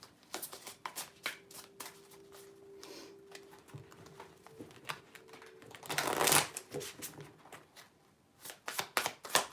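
Tarot cards are shuffled up close in quick crisp riffles and flutters, with a longer dense riffle in the middle and sparse clicking taps around it.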